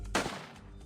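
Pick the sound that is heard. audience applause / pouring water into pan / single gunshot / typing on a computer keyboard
single gunshot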